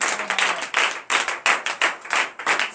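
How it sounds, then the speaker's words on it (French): A church congregation at a morning prayer service claps in a lively rhythmic pattern, bursts of many hands landing in quick, regular beats with short gaps between groups, fairly near and moderately loud. "donner de vive acclamation à notre Seigneur"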